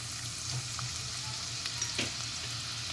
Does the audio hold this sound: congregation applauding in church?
no